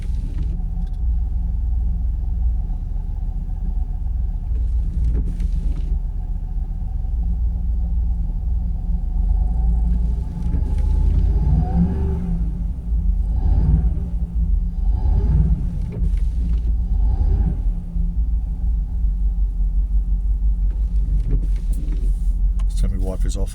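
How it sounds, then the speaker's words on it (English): A Jaguar XKR that won't idle properly, with a MAF sensor being cleaned, holds a steady low engine rumble at about 1000 RPM heard from inside the car. The hum is even and throbbing, with brief clicks and shuffling noises partway through. "I'll back the throttle off a little bit, see if I can hold it around the 1000 RPM."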